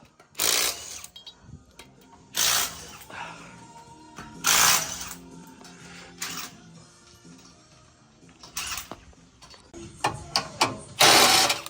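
Ratchet spinning off the six 22 mm lug nuts on a Toyota 4Runner's wheel, heard as several loud separate bursts of rapid clicking, near and close, with quieter mechanical clatter between them and no talk.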